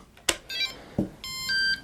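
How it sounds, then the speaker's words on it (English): Flysky i6X transmitter binding to an X6B receiver on a Wizard X220 quad: a sharp click, then a short low bloop and a pair of clear electronic beeps, close and fairly loud. "And then it goes bloop, beep, and then that should stop blinking, and then it should be bound"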